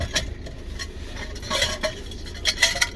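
A spoon stirs and clinks in a cup of herbal tea, with soft repeated scraping and light chimes in a quiet space while stuck in traffic.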